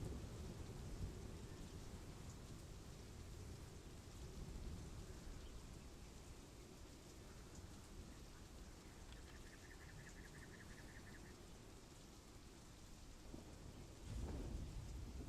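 Thunderstorm with steady rain in the video game Conan, a dense wash of rainfall with low rumbling thunder throughout and a heavier crack of thunder near the end.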